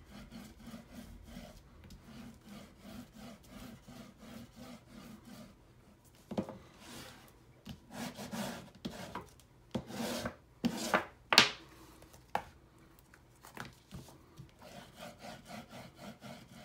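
A tool rubs firmly across the cover of a baby album being burnished, giving dry scraping strokes that start faint and then grow louder and more rhythmic, in short close bursts with pauses between them.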